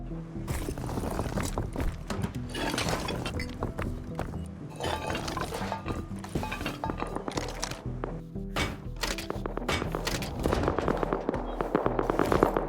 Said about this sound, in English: I'm hearing so many gunshots.